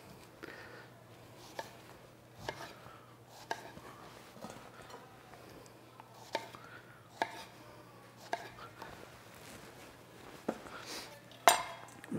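A knife chops strawberries into quarters on a cutting board with sharp separate taps every second or so, quiet and close, with light kitchen clinks between the cuts.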